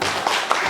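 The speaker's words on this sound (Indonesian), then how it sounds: "Kalau tepuk hebat tuh gini" Hand clapping from the rhythmic 'tepuk hebat' clap used in a classroom, with two sharp claps standing out over a busy, noisy background.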